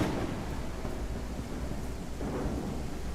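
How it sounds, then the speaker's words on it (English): In the video game Exanimum, a thunderstorm rolls on with a steady wash of heavy rain and deep, low thunder rumbling underneath the whole time, with no speech. "It is a good little thunderstorm."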